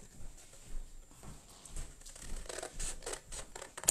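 Scissors snipping stray pieces off a wooden character board for a wreath craft, a string of quick, fairly close cuts with light scratchy handling noise between them and no talking.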